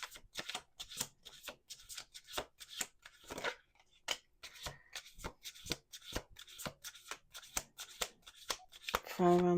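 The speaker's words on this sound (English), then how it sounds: "Last shuffle." Playing cards are shuffled in quick riffling bursts up close, one pass after another, with a faint voice underneath and a short tonal sound at the very end.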